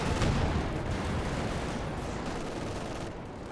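Gunfire and artillery in the World War II strategy game Company of Heroes 2 roar as a steady, dense battlefield rumble of shots and distant booms, with a Panzer IV and T-34 tanks in play and no voice.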